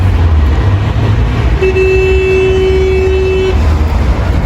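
A single sustained car horn blast of about two seconds sounds over steady traffic rumble, fairly close and loud.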